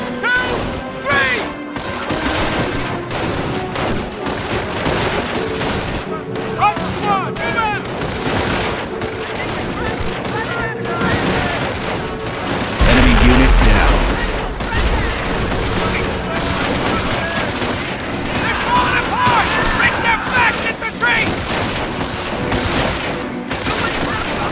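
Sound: gunfire in the Company of Heroes video game

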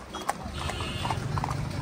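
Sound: horse hooves clip-clopping, Marwari horses ridden

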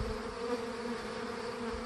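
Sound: honeybee swarm buzzing

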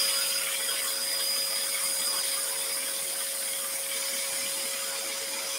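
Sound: scroll saw cutting a wooden shelf blank

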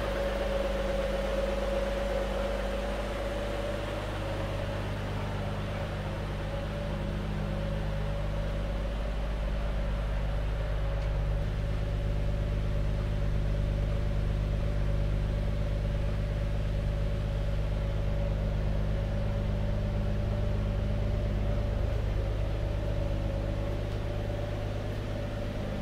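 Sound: early Ford Falcon engine idling while warming up

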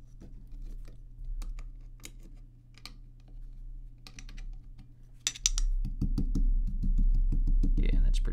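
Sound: typing on Planck V6 mechanical keyboard with Silk Black switches

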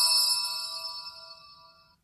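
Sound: phone notification ding

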